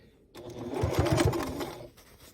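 Sewing machine running a short burst of stitches on fabric for a boxy bag at stitch length 4, a close, steady mechanical whirring with rapid needle thumps, starting and stopping cleanly in quiet.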